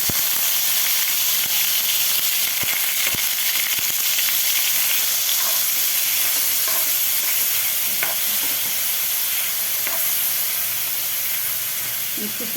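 Finely grated onions fry in a pan for a dhaba-style egg masala, making a loud, continuous close hiss and sizzle with occasional faint stirring clicks and no speech.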